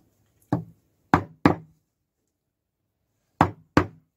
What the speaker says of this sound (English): by just taking the chisel, you can work round like that